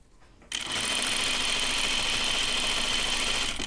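A sewing machine stitches the side seams of a caftan dress, starting abruptly after a brief quiet moment and then running as a loud, steady, continuous whir to the end.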